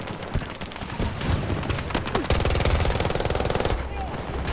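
Video game gunfire in a first-person shooter, rapid automatic bursts crackling loudly and almost nonstop, with a fast steady machine-gun rhythm in the second half, while a player talks excitedly over it.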